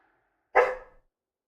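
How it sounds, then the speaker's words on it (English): A single short dog bark, close and clear against silence, lasting about half a second. "Don't bark at me,"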